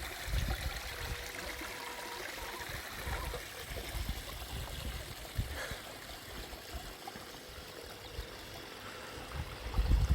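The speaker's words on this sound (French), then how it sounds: "Voilà, hop, vous avez la petite cascade" Small waterfall in a garden fish pond with a homemade grille filter, iris plants in bloom nearby, making a steady, continuous trickling splash that runs evenly throughout at moderate distance.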